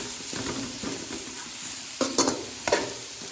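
A spoon stirs spices through a sizzling cooking pan while ginger-garlic paste and garam masala are being cooked. Steady frying hiss runs throughout, with a few louder scraping strokes near the end.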